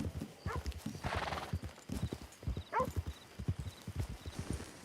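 A horse in the video game Red Dead Redemption 2 walks with a steady, close clip-clop of hooves and lets out a couple of whinnies, with someone talking over it.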